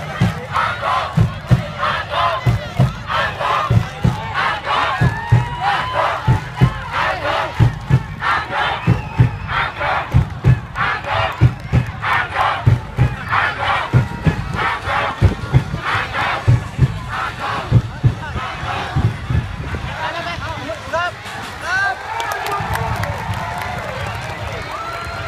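A large crowd of Ang Thong football supporters chants and yells in rhythmic bursts, loud and close, the shouting repeating steadily without letup as the team walks toward the stands.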